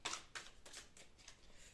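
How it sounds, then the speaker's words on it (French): A tarot card drawn from the deck gives a few quiet, brief papery swishes and flicks, spaced irregularly and close by, with no one talking. "Je vais tirer une carte sur cette..."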